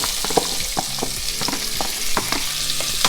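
Onions sautéing in bacon grease in a pan, a steady bright sizzle with repeated scraping and stirring strokes, close and alone without any voices.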